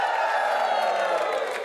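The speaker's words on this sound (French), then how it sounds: "Mes amis, vous pouvez applaudir" A television game-show studio audience cheering and whooping in a continuous dense roar, with some people talking within the crowd noise.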